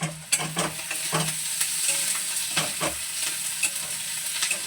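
Chopped onions sizzle in a pan, stirred with a utensil that makes repeated scraping knocks over a steady frying hiss, close and with no speech.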